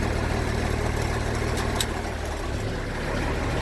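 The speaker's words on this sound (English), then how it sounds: "now you can hear the engine's got a load on it" An M936A2 wrecker truck engine runs steadily under load, a continuous low mechanical drone with a slight change in tone partway through as it goes into gear, no voices.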